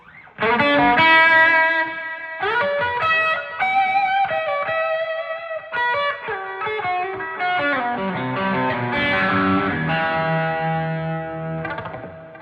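An electric guitar runs through a Joyo Bluejay Bantamp with delay and reverb added, playing loud overdriven single notes and chords whose repeats trail and ring out across the passage.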